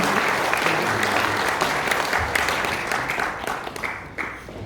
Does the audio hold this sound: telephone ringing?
no